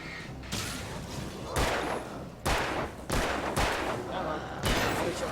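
Gunshots ring out in Alan Wake, a handful of loud, heavy shots spaced roughly a second apart over a dense, noisy background.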